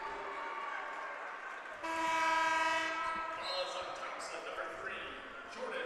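A sharp referee whistle at a girls' high school basketball tournament semifinal blows loud and sustained for about a second over steady gym crowd noise, with a commentator talking throughout.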